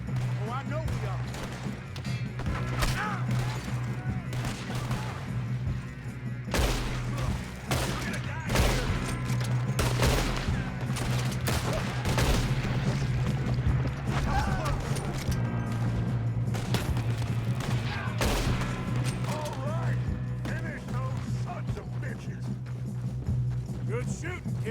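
Red Dead Redemption 2 shootout: rapid, irregular gunshots crack out in bursts over a sustained low drone, with hoofbeats and shouted voices mixed in across the whole stretch.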